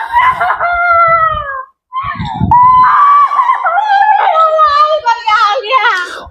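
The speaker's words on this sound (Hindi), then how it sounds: "चिल्ला रही है, चीख रही है।" An elderly woman wails and screams loudly and close by in a road-safety drama staged at a college competition in Bareilly, her long rising and falling cries breaking off briefly and then resuming more frantically, with other voices underneath.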